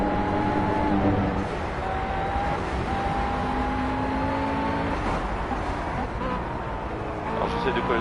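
Engine of a race car in Project CARS, a sustained mid-pitched drone whose tone rises and falls with shifts, heard continuously beneath a person talking.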